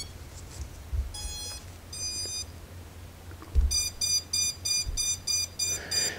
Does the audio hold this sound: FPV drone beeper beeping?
yes